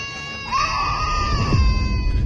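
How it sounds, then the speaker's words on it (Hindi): Children screaming as a story sound effect, a sustained high shrill wail rising and holding for nearly two seconds over a low rumbling background. "उसके तीनों बच्चे चीख रहे थे।"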